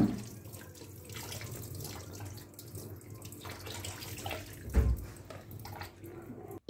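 Rice being washed in water for a prawn pulao, a steady running splash and swish of water in a sink with a brief louder slosh near the end, close and continuous with no talk.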